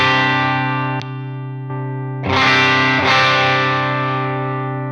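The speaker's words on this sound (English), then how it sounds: "That's the Tumnus sound." Electric guitar through the Tumnus overdrive model on a Line 6 HX Stomp, sustained distorted chords ringing with a fresh strum near the middle, loud and continuous with no talking.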